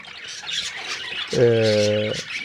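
A pet ornamental bird in its cage gives one loud, harsh squawk lasting under a second, close by, over a soft background hiss.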